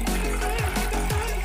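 Water runs steadily through an aquarium hose between an upper and a lower tank, a continuous close trickling flow with soft gurgles and no talk over it.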